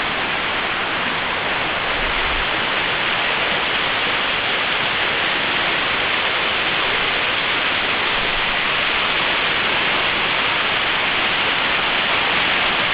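Victoria Creek cascades in the Grose Valley give off a dense, unbroken rush of water, steady and loud for the whole stretch with no voices.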